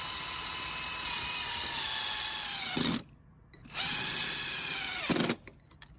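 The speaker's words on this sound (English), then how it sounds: "we're gonna drive a couple of screws in those holes" Cordless drill driving screws into the mount of a new hose bib during a replacement, two whining runs of about three seconds and one second separated by a pause, close and steady, with no talking.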